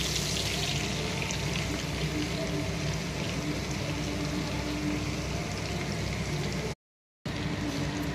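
Ground spice paste hits hot oil in a wok while cooking pointed gourd with prawns, giving a dense, continuous sizzle that stays loud and even, briefly cutting out near the end.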